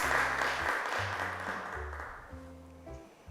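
Brief applause greets a child returning to her seat on a children's TV show, the clapping strongest at first and thinning out as background tones carry on.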